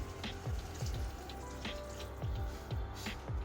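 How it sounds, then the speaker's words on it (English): Water poured into a pot of sweet potato soup, giving a bubbling, gurgling run with repeated glugging pulses at a steady, moderate level, close by and with no talking. "Now add another cup of water."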